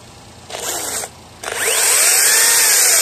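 A quiet electric saw cuts through a tree trunk about 15 cm across, a short burst of whirring, a pause, then a steady rising motor whine as the blade bites into the wood.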